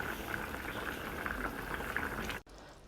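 Pepper sauce bubbles in a pan, a steady close simmer with small repeated pops, running evenly until it cuts off abruptly near the end.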